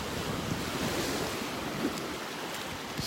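Ocean surf rolls onto a beach in North Naples, Florida, on a cloudy morning, a steady close wash of breaking waves with wind buffeting the microphone and no voices.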